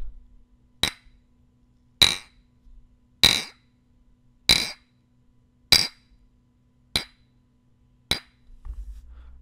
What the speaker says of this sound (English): clunk two glass bottles together